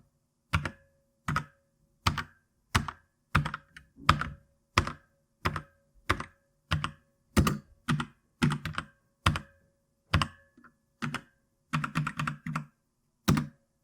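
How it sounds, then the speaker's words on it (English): Slow, deliberate keystrokes on an RK Sink 87G wireless mechanical keyboard, each a sharp clack with a hollow, ringing twang from the gap between base and frame, spaced out then bunching into quicker clusters. "There's clearly a hollow space between the base and frame of the keyboard which creates a twang sound."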